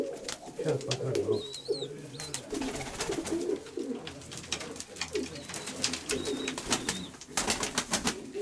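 Pigeons and young squabs from a fancy-tailed breeder's loft coo steadily and close, overlapping low rolling calls with sharp wing claps and a few thin high whistles, while people chat nearby.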